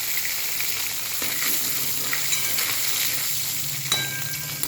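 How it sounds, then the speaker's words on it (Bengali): Green chillies spit and sizzle steadily in hot oil as a tempering for a simple fish curry, a close crackling bed with a few sharper pops near the end and no voices. "কাঁচা লঙ্কা একটা ফোড়ন দিলাম।"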